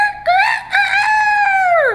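A rooster gives one loud, clear cock-a-doodle-doo crow that rises and holds for about two seconds, close by and alone with no other sounds.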